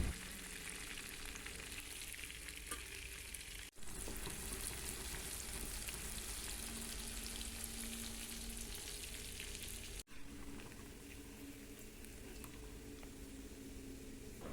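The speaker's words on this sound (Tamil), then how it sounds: "இரண்டு அல்லது 3 நிமிடங்களிலே இறால் பொரிந்து விடும்." Prawns fry in hot oil in a pan, giving a steady, dense sizzle with close crackle throughout, with two brief dips where the hiss drops out for a moment.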